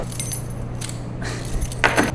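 Keys jangling close by in a few short metallic bursts, with a steady low hum of a car in the background before an open-water river swim race.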